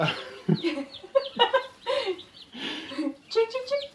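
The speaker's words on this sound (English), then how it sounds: "okay, a little chicken drama going on here" Backyard chickens cluck and squawk in a busy run of short, overlapping calls, close and fairly loud, with a few sharper bursts among them.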